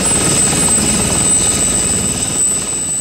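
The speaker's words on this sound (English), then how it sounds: "Three police helicopters took off from the Croat capital, Zagreb" Three police helicopters take off from Zagreb, the Croatian capital, making a steady, loud rotor and engine roar that fills the whole stretch without a break.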